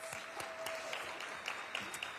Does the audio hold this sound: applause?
yes